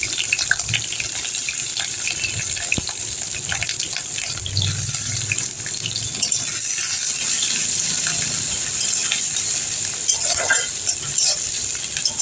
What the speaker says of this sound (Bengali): এবার আমি তেলটা গরম হয়ে গিয়েছে, এবার আমি ক্যাপসিকাম কুচিগুলোর মধ্যে দিয়ে দিচ্ছি।